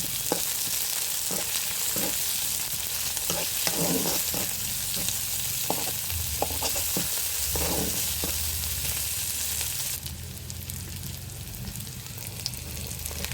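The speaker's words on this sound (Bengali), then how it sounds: "এখন পেঁয়াজ কুচিগুলো দিয়ে দিলাম দিয়ে আমি কাঁচা মরিচ কুচি দিয়ে দিলাম দিয়ে হালকা একটু ভেজে নিব" Chopped onion and green chilli fry steadily in a pan, a continuous close sizzle with intermittent stirring scrapes through the first ten seconds, then a brighter, hissier sizzle takes over; no voices.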